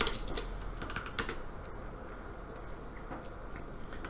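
Quiet computer keyboard typing, a quick irregular run of soft key clicks close by over a steady low background hum, with no talking.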